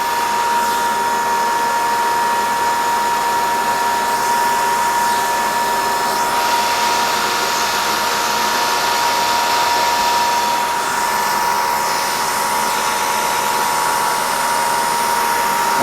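A Bridgeport CNC milling machine spindle runs at 4,200 RPM, a loud continuous high whine with a steady pitch held for the whole stretch, alone without talk.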